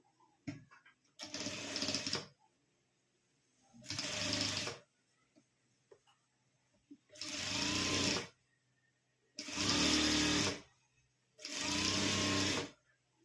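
A sewing machine stitches old shirt fabric in five separate bursts of about a second each, loud and close, with quiet pauses between runs.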